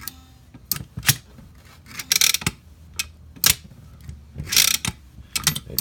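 A 2000 Pontiac Bonneville parking brake pedal ratchets in a series of sharp, close mechanical clicks and clacks, sometimes in quick bursts, with quiet gaps between them.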